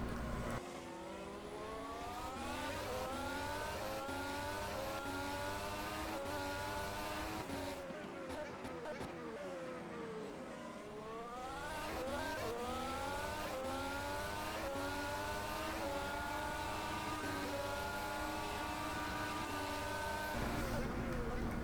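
A Renault Formula 1 engine heard onboard a race car in an F1 2017 Bahrain Grand Prix racing game, its high-pitched whine rising and falling steadily through gear changes, with a voice talking faintly underneath.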